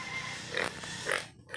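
A domestic pig named Peggy gives two short, close grunts about half a second apart over a quiet farmyard background.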